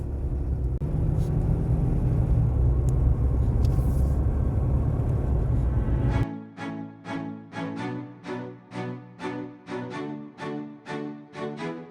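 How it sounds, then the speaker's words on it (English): A truck drives down Snoqualmie Pass with a loud, continuous road rumble for several seconds, then gives way to a regular pulsing rhythm. "So I'm going to try and drive the truck back down the mountain."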